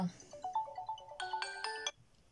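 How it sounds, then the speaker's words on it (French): A phone alarm ringtone sounds in a quiet room: a short rising electronic melody of bright tones, repeating in two quick bursts for about two seconds, close and clear. "Sorry pour le réveil."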